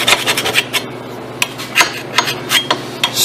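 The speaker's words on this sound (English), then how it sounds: "scrape some of this rust off of here" A scraper rasps rust off a brake caliper on a 2007-2011 Nissan Versa in quick, close strokes, about a dozen sharp scratchy bursts in an uneven rhythm over a low background hum.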